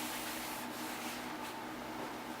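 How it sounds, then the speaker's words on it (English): A clean rag wiping WD-40 residue off a paper-cutting blade, giving a soft, steady rubbing swish that continues close and quiet for a few seconds with no talk. "Back to my clean rag to get that WD-40 residue off."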